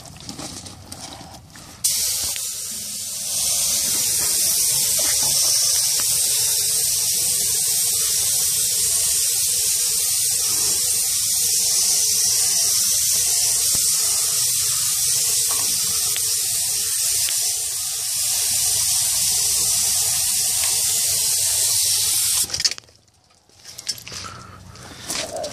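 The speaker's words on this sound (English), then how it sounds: "You're gonna have to spray up into that nook." Steady, loud spray-gun hiss while paint is sprayed onto a trailer, running continuously for about twenty seconds before cutting off abruptly, with a few brief bumps after.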